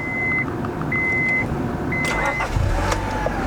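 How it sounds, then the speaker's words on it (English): A 1999 Honda Prelude Type SH sounds a repeated in-car warning chime, then the engine cranks and catches near the end with a low rumble settling into idle, heard close from the cabin. "Oh, she starts right up, she purrs, no warning lights whatsoever."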